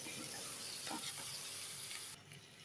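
Chicken pieces sizzle in a pan while being stirred into a spiced mix for a country-style chicken curry, giving a steady close frying hiss with faint scraping.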